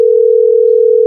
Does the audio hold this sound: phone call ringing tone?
yes